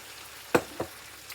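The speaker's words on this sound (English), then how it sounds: "Spoon in some of this teriyaki sauce over this." Teriyaki sauce spooned into a hot pan of bok choy, giving two short, sharp sizzling bursts close by, the second softer, over a quiet low background with no talking.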